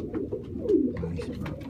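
A pigeon coos on a Brooklyn street, a short soft throaty burble heard up close against light background noise.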